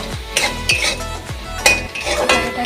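Bottle gourd being stirred with a little wheat flour in a pan, the spoon scraping and clinking against the metal in repeated strokes, close and fairly loud with no talking.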